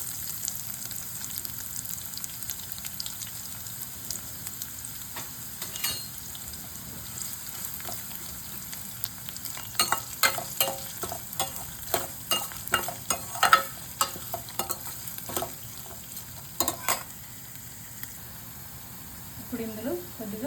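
Chopped onions dropped into tempering of mustard seeds and lentils, frying in a pan with a soft continuous sizzle and a cluster of clattering stirring strokes midway, fairly quiet.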